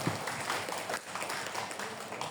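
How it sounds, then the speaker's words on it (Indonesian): An audience at an Islamic talk on raising children gives a short burst of applause for Ustaz Fadil, dense clapping that holds steady for a couple of seconds. "Tepuk tangannya boleh untuk Ustaz Fadil."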